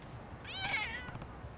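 A cat meows once in the video game Lost Judgment, a single clear, moderately loud cry with a rising and falling pitch, over a quiet game background.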